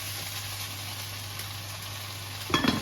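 Beef fries over a full flame, giving a steady, even sizzle throughout. It ends with a quick clatter as the pieces are stirred in the pan.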